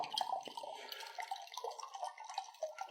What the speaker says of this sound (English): So just pour your water into a bowl.